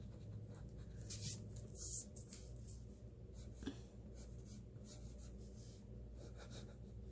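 An eraser rubs back and forth over a pencil drawing of a hand on paper, a soft close scratchy friction that runs steadily throughout with a couple of brighter bursts, over a constant low background hum.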